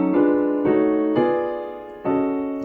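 Four held keyboard chords climb step by step, alternating between minor 6 and diminished voicings, each struck crisply and left to ring, played close with nobody speaking.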